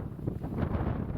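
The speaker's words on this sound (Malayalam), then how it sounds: "നല്ല തണുത്ത കാറ്റ്" Cold wind blows steadily through a valley among limestone chimneys in Djibouti, a continuous broadband rush buffeting the microphone, with no voices.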